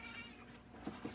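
A cat meows indoors, a couple of short faint mews near the end over quiet background hum.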